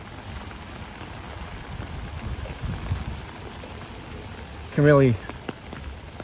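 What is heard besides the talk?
rain falling on surfaces during a walk in Queens, New York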